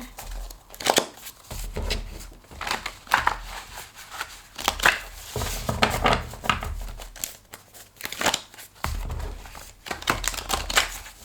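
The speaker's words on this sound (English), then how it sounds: "these are kind of weird to shuffle" Papery crinkling and rapid flicking of stiff oracle cards being shuffled, in several bursts with short pauses, close up.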